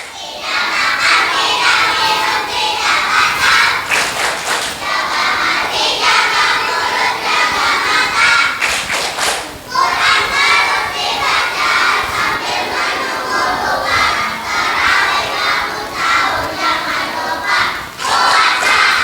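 Crowd of children at a Ramadan religious camp at a mosque performing the tepuk puasa clapping chant, loud rhythmic group shouting with bursts of claps and thumps, repeating in energetic waves close by.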